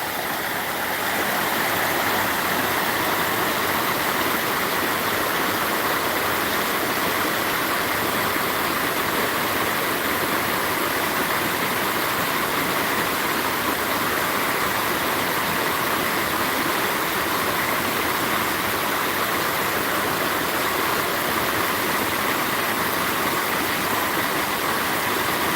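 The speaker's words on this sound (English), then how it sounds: "I'll come down here and sit and hang out, listen to the water run." A river runs at daybreak in the Shenandoah valley, a steady, continuous rushing and burbling of water that holds at an even level throughout, with no voices.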